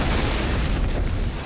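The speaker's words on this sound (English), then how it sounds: "I swear that just exploded." A film explosion from a battle scene, a dense broad roaring blast that fills the whole moment with loud rumbling noise.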